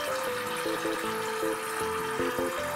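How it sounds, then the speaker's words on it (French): Tap water runs steadily into a sink while a carrot is scrubbed with an orange-shaped sponge in a children's game, a constant close splashing wash under bright electronic tones. "Nous allons donc maintenant fermer le robinet pour ne pas gaspiller de l'eau."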